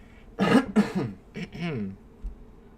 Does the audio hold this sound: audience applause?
no